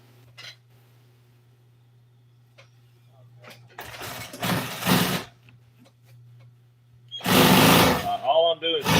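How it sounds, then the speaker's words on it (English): A sewing machine stitches around a piece of burlap, its bursts of rapid mechanical whirring arriving in two short runs over a steady low hum, with quiet handling noises in between. "All I'm doing is going around this piece of burlap and sewing it back an inch"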